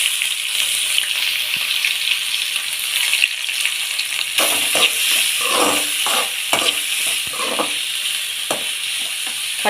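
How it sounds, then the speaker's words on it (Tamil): Finely chopped onions sauté in hot oil for a meat-maker masala gravy, giving a constant close sizzle with intermittent scraping and stirring clatter of a spoon in the pan, no voices. "பொடியாக நறுக்கின வெங்காயம். ஃபஸ்ட்டு இதை வதக்கிக்கலாம்."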